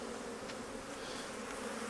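Honey bees hum in a steady, even drone around an open Flow Hive during a vertical split, close and unbroken, with no voices.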